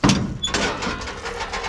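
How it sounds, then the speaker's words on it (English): The metal door of an outdoor wood-fired boiler swings open with a sharp clack, then a steady roar of fire and draft follows, close and loud. "You know I gotta open the door one more time"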